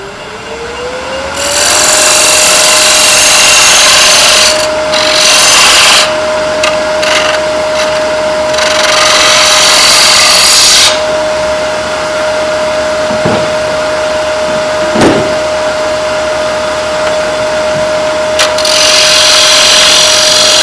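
On a lathe, a wood blank spins steadily with a constant tone while a small temporary tenon is shaped on its end, loud and close, with bursts of hissing cutting noise coming and going.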